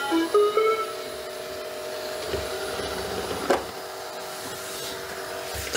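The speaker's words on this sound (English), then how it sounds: "I'm gonna hit the dock button to see where it goes." Robot vacuum driving back to its dock, a steady electric motor whine with tonal hum, brief clicks and bumps as it turns and positions itself, close by.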